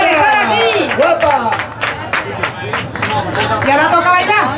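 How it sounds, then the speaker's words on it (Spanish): Crowd applause and cheering in a casita at the Seville April Fair, with claps and shouts under a woman's sung or spoken voice close by, busy and continuous. "Un aplauso para ella"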